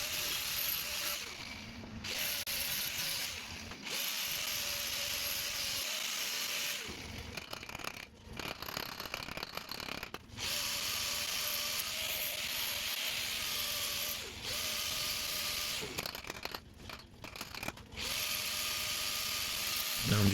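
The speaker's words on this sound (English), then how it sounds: "Now I'm just dressing it off and doing the last little bit of hammering" Butt weld on a steel panel of a JDM kei car being dressed off during rust repair, a steady buzzing, rasping tool noise close by for most of the stretch, broken by a few short pauses, with light hammering.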